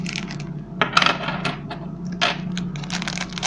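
Bimetallic coins spill from a freshly opened pack, clinking and jingling in quick irregular metallic bursts, close and fairly loud.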